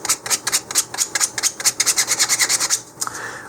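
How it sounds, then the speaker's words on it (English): Sandpaper of 100 grit rasps in quick, steady back-and-forth strokes over a 3D printed model rocket nose cone, about fifteen close, even scrapes with a brief pause near the end. "So I'm starting here with 100 grit sandpaper and kind of working my way around"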